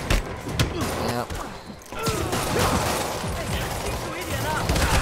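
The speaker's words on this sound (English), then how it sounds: "Did the cop shoot me?" Gunfire from police in the Spider-Man PS4 video game, a dense run of shots and impacts mixed with game effects and music, with a person talking over much of it.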